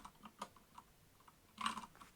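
Short password typed on a computer keyboard: soft, close key clicks in a sparse, uneven sequence, ending in a brief quick cluster of taps in a quiet room.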